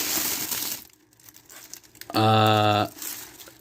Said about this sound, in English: I'll go ahead and unwrap the Wookiee from this paper burrito of his